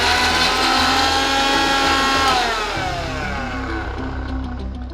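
A mixer grinder whirs loudly as it grinds roasted chillies, coriander seeds, cumin and garlic for radish chutney, a steady motor drone that shifts pitch and eases slightly near the end.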